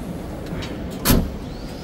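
The bed of a Mitsubishi Triton Ultimate pickup with a bed liner shuts with a single solid thud near the middle, against a low steady background.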